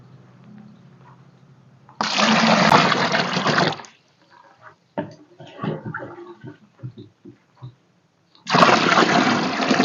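Water gushes loudly into a bucket for a wick hydroponic setup in two strong pours, with quieter trickles, handling noises and a short pause between them.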